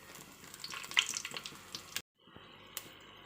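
Whole spices splutter and crackle in hot oil for a chicken biryani, a dense close frying hiss with sharp pops that cuts out briefly, then resumes more quietly with a few isolated crackles.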